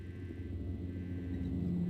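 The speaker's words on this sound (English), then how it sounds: "So that's the sound of the helicopter arriving onto the rooftop." Helicopter arriving onto a rooftop in the video game Prey, a steady low rumbling drone with layered engine hum, heard alone and moderately loud.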